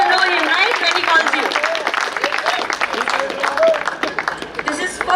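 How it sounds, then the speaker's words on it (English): An audience claps at a graduation ceremony honoring an accounts department staff member, with steady applause mixed with crowd murmur and voices throughout. "Clap for him."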